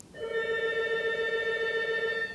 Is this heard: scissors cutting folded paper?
no